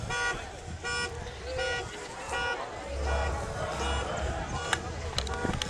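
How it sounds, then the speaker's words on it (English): A black Ford Taurus's car alarm sounds at an outdoor statue unveiling event, repeated beeping toots in a steady cycle amid crowd babble and people talking nearby. "Black Ford Taurus, New York plates, your alarm is going off."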